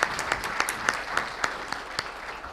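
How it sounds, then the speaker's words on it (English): Round of applause for farmers at a stock exchange listing ceremony, with a crowd clapping steadily and a few sharp, close claps standing out above the general applause. "So can we make a big round of applause once again for our farmers?"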